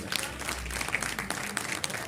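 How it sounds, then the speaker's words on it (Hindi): An audience at a women poets' gathering applauds in a brief burst of brisk, overlapping claps, moderately loud and close, over about two seconds. "तालियां तालियां"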